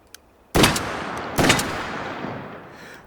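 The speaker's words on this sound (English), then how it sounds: "Nothing wrong with sawed-off shotguns, especially one like the Sjorgen" Sjögren shotgun in a Battlefield 1 style shooter, two loud close blasts about a second apart, each trailing off in a long rumbling decay, with a faint click beforehand.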